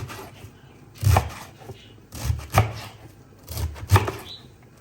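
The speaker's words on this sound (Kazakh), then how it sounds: "Мына капустың барлығын осылай турап сөйтіп аламыз қазір." A kitchen knife chops through cabbage on a cutting board for kimchi in three close, separate bursts of quick crunchy strokes, with quieter pauses between them.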